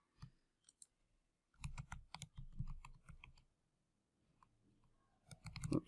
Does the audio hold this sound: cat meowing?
no